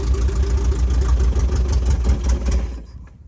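A Toyota KE70 Corolla engine idles steadily with a low, rough rumble and rapid pulsing, then cuts out abruptly near the end when the fuel in its carburettors runs out, leaving silence.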